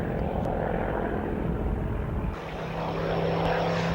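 Hawker Hurricane fighter with a Merlin engine flying, a loud steady propeller and engine drone with a shift in tone partway through as it passes.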